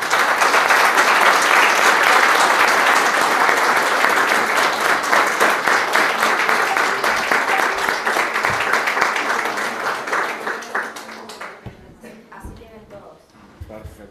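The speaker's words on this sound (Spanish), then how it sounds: "vamos a darle un aplauso a Pablo Álvarez" At a presentation event, a crowd applauds loudly and steadily for about ten seconds before the clapping thins out and fades away.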